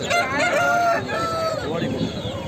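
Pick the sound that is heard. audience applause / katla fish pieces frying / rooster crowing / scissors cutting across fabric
rooster crowing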